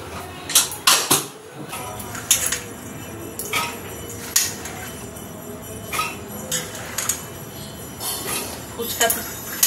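Pot and dishes clinking in a kitchen while peas are put on to boil, scattered sharp metallic clinks and knocks over a low background, with a voice talking at times.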